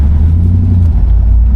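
Deep, steady exhaust rumble from a 1968 Chevrolet Impala SS with a 396 V8, heard from inside while cruising at low speed, loud and continuous with no talk.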